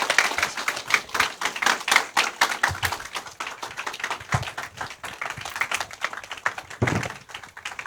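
A church congregation at a Wednesday mission-dedication service claps in praise, the individual claps sharp and fairly close, uneven and sparse rather than a dense roar, continuing for about eight seconds.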